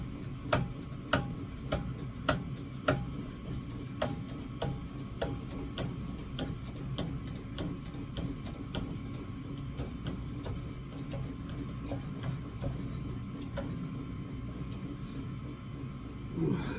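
Zupper press tool with its jaws closing, a steady run of mechanical ticks and clicks repeating at a regular pace over a low motor hum, close and fairly quiet.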